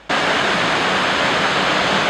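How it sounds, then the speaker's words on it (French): Waterfall on the Faro River, water dropping more than 30 metres and crashing onto rocks: a loud, steady, broadband roar that starts abruptly and holds constant throughout, with no voices. "Des cascades impressionnantes où l'eau tombe avec fracas sur des rochers à plus de 30 mètres"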